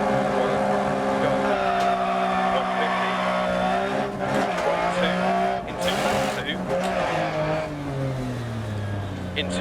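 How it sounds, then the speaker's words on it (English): A Lancia Stratos rally car in Dirt Rally racing on a wet Monaco stage at night, its engine droning steadily with shifting revs and a hiss of spray and tyre noise throughout. "You can hear that the wet roads, they are not dry here"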